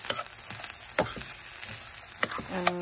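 Carrots and other fried rice ingredients cook in oil for hibachi-style chicken and steak fried rice, a continuous close sizzle with scattered utensil clicks and stirring taps, then a brief tonal ringing at the end; no one speaks.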